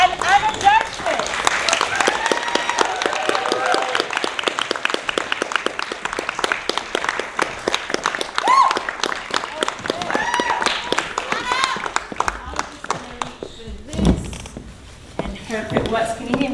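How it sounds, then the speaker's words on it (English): Audience applause for actors Peter Finn and Anna Dershowitz at a London theatre event, dense, steady clapping from a crowd lasting many seconds, with voices mixed in and a brief dip near the end. "Please, a round of applause for Peter Finn and Anna Dershowitz."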